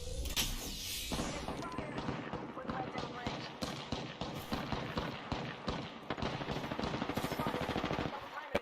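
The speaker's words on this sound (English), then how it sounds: "Yeah, getting shot at." Sustained automatic weapon fire rattles nonstop in an Apex Legends battle royale match, dense rapid bursts layered with impacts and game effects, loud and continuous throughout.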